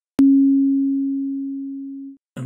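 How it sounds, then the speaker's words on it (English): A simple pure sine tone, one steady unbroken pitch that starts abruptly and holds for about two seconds, slowly fading slightly before cutting off, followed by a brief burst of noise. "This is a simple sine wave."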